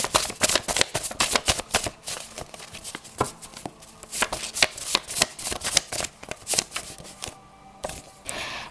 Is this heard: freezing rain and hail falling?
no